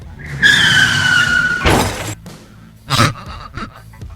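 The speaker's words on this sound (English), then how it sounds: "their heavy braking caused them to lose control and crash into the median cable barrier" A car brakes hard and skids with a long tire squeal, then slams into a median cable barrier with a loud crunching impact, followed by a second crash burst and a gasp.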